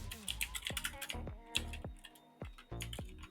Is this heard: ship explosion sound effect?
no